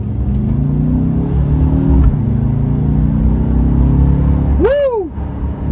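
A 2023 Mercedes-Benz CLA 250 4MATIC's engine climbs through the revs as the car speeds up on a late-night drive, a loud, steady, rising drone that ends in a quick upward sweep before it settles.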